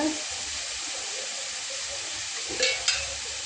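Oil heats in a pan before fish coated in turmeric goes in for frying, giving a steady close sizzle with a couple of brief utensil clinks near the end.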